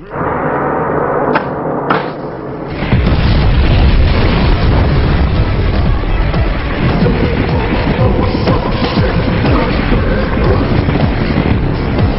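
A grenade goes off in an action film scene, a loud sustained roaring blast with rumbling debris that swells after a couple of seconds and carries on heavily to the end, no speech.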